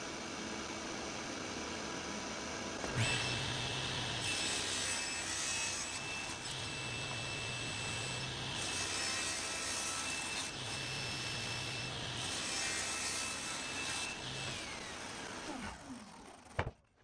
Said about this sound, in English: it's time to clean up the edges here and cut it down to an 8 by 8 board.